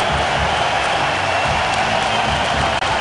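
Arena crowd at a hockey game keeps up sustained applause and cheering after Steven Stamkos nets his 60th goal against Winnipeg, a broad, even roar with no individual voices standing out.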